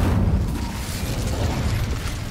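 An Incendio fire spell in Hogwarts Legacy bursts into a low, rumbling roar of flame that holds steady and loud for a couple of seconds.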